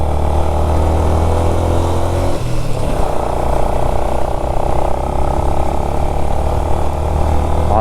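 Steady, loud motorcycle exhaust drone during a ride on a road in Sri Lanka, a continuous engine roar with a slight shift in tone midway and no pauses.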